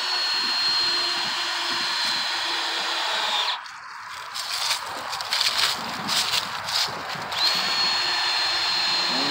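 A power drill drives a screw into a wooden board on a four-board fence, a close, steady whine that holds for several seconds and then gives way to a short run of brief, stuttering bursts, with no talk.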